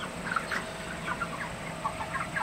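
Broiler chickens about 38 to 39 days old, all roosters, cluck softly in a poultry shed. Short, scattered calls rise over a low, steady background hum.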